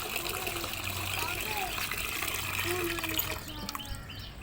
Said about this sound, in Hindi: इसका हम पानी बंद कर देंगे अभी